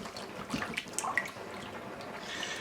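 Beijing beef sauce of rice vinegar, water and cornstarch is stirred together in a bowl. Faint wet sloshing comes with scattered soft clinks and drips, close and quiet with no voices.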